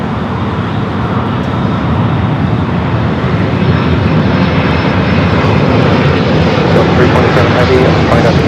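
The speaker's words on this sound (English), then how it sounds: "Delta A350-900 up next for takeoff" A Delta Airbus A350-900 airliner taking off at LAX produces a powerful, continuous engine roar that stays loud and dense from start to finish, with a voice faintly present beneath it.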